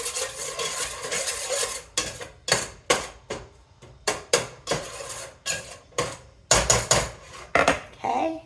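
A spoon scrapes and clanks against a pot of salted sausage and potatoes in rapid, uneven strokes, close and clear, with short pauses between bursts of stirring.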